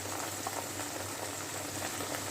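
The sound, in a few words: spice paste frying in oil in a pan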